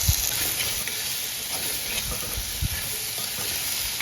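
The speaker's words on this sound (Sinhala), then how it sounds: "මිශ්‍රණය හොඳින් කලවම් කරගෙන අපි කපාගත්ත ඇඹරැල්ල ටික මේකට එකතු කරගෙන හොඳින් කලවම්" Chopped ambarella being stirred into a frying curry mixture in a Sri Lankan village-style curry made without coconut, giving a steady sizzle and hiss with soft scraping stirs throughout, no voices.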